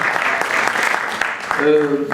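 A conference audience applauds at the close of a day of reflection on youth, a steady wash of clapping that runs throughout, with a voice speaking over it near the end.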